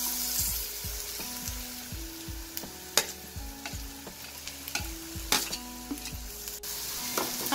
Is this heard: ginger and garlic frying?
yes